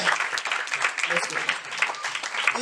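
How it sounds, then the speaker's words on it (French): Church congregation applauds during a service, a continuous patter of many hands clapping at moderate volume, with some voices mixed in. "If you are appreciative of your pastor, put your hands together."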